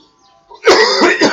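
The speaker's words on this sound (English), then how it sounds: "Real cigarettes don't make me cough like vapes make me cough." A harsh throat-clearing cough from vaping bursts out loud and close after a near-silent start, two rough hacking pulses in quick succession.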